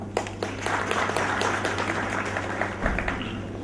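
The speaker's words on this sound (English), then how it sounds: "Let's have a round of applause for them." A seated audience at a formal session applauds the distinguished guests on the dais, a dense, steady patter of many hands clapping that lasts throughout over a low electrical hum.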